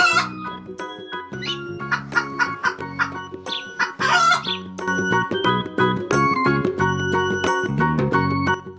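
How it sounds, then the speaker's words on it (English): Chicken clucks ring out over a bouncy children's nursery song about animal sounds, repeated in a rhythmic pattern, loud and upfront against the music. "What sound does a chicken make? Cluck, cluck, cluck, cluck."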